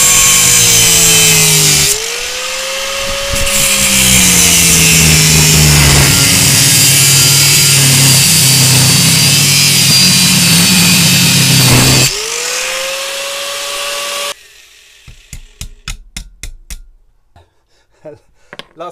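A power tool, likely an angle grinder, cuts off a welded nut on a DIY tool tube build, whining loudly and continuously with pitch dips as it bites, then stops and gives way to a few quiet clinks.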